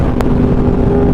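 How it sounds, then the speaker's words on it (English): A Yamaha R1M motorcycle with an SC Project aftermarket exhaust drones steadily and loudly up close, with a brief sharp click near the start. "We got the SC Project exhaust put on, and man, this thing finally sounds like it should."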